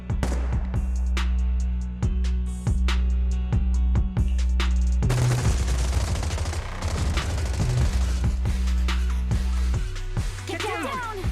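Suppressive marching gunfire in Zenless Zone Zero, rapid bursts of shots in a rhythmic pattern, loud and close, with heavier volleys midway and no talking over it.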